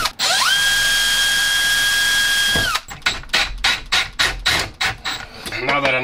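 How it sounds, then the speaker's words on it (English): A power drill whines steadily at high speed, then stutters in short repeated bursts as it pre-drills screw holes during an RV upgrade, loud and close. "I'm gonna pre-drill right here just because it'll be easier"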